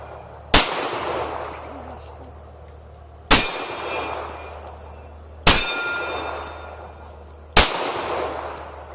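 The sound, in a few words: nine gunshots from a Smith & Wesson M&P45 2.0 pistol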